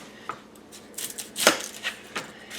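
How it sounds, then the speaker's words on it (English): A knife chopping an onion on a board, close, with a series of irregular sharp cuts, one heavier chop near the middle, and no talk. "we are going to cut up our onion"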